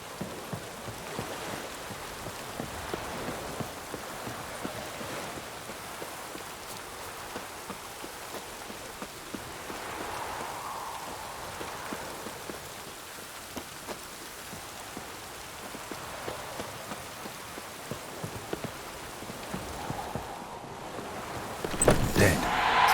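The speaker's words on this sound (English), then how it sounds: "Looks like rain." Steady patter of rain falling on surfaces in The Witcher 3: Wild Hunt, with scattered drops and a soft constant wash throughout, slightly louder toward the end.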